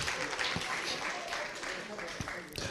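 Audience applause at a pan-African conference on illicit financial flows and taxation, a steady wash of many hands clapping from a large room, fairly faint and even across the short stretch.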